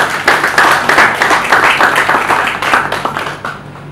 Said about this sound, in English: A round of applause for all of us, please